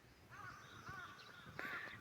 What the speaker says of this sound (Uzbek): Qarg'alar haqillayotibdi.